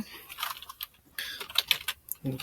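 Website address typed on a computer keyboard in a quiet room, a brisk run of close key clicks in short bursts with a brief pause between them.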